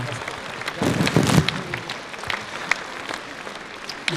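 Audience applause at a Ukrainian song concert: a moderate, steady patter of many hands that swells briefly near the middle and then settles into a thinner, continuing clatter, with no voices over it.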